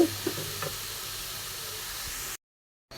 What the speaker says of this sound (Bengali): তো আমি এখন গাজরটাকে একটু নাড়াচাড়া দিয়ে নিলাম।